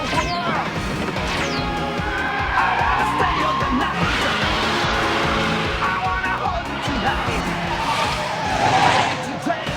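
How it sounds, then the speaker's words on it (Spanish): Tires of a Mazda RX-7 FC skid and screech as it drifts in the Initial D anime, a continuous loud squeal inside a dense mix of engine roar and other sound, with a crash-like burst near the end. "El FC está derrapando hacia afuera."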